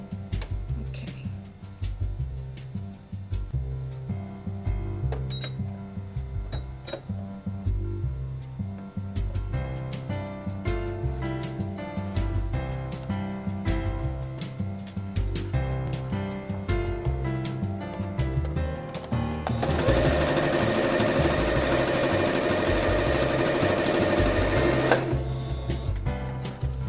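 A sewing machine stitches leggings fabric in steady, rapid mechanical runs with brief pauses, ending in a louder, faster burst of continuous stitching near the close.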